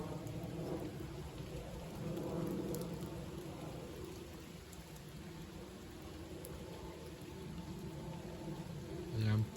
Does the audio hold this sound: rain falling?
yes